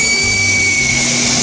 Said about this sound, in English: you're letting the air out of the tire.